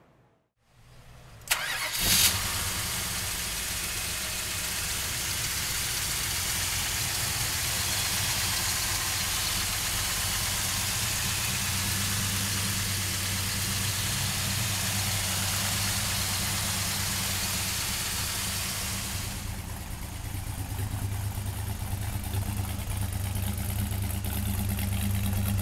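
A 1969 Dodge Super Bee with a 440 V8 cranks over and fires up, then settles into a loud, steady, rumbling idle that holds close by for over twenty seconds.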